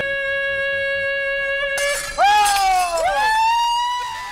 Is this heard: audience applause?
no